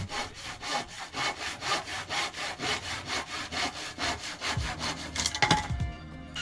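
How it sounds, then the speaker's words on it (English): Handsaw cutting through wood, likely a 2x4, in about fifteen steady back-and-forth rasping strokes, close and loud, ending with a few quicker scrapes as the cut finishes. "I had to cut with a handsaw"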